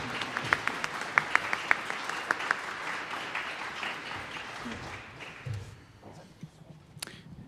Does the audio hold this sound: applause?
yes